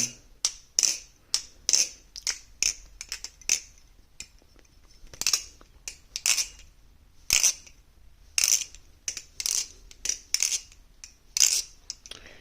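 Quick bursts of sharp metallic clicks and clacks from a somewhat dry, unlubricated balisong being flipped, arriving in irregular clusters with brief pauses, close and fairly crisp, no talking.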